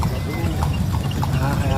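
A horse pulls an andong carriage through Malioboro in the morning, its hooves clip-clopping steadily under ongoing talk and street noise.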